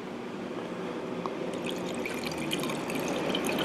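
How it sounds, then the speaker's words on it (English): Water poured into a car radiator reservoir during a radiator flush, a steady close trickling and splashing fill that runs continuously and grows slightly fuller toward the end, with no talking. "I'm just going to throw in some water and I'm going to see what happens"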